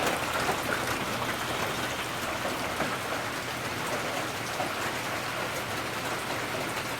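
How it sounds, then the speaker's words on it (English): Steady rain falls outdoors by a full pond and fountain on a country property in summer, a dense, even hiss of drops hitting surfaces that lasts throughout without any talk. "It's raining."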